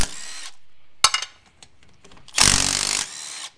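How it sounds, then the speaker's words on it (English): Pneumatic rattle gun undoing bolts on a wingless sprint car quick change diff, heard as short sharp bursts and one longer loud burst of impact-wrench hammering, with metallic clatter between. "when you want to use a rattle gun on the bolts"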